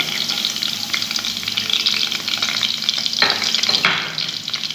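Chopped onion dropped into hot oil for chana dal, a bright busy sizzle with stirring scrapes and a brief louder burst partway through, close and continuous with no speech.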